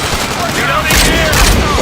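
Gunfire from World War Z, in the Marseille chapter: a dense, sustained roar of shooting and booming blasts, loud and continuous, with shouting voices mixed in.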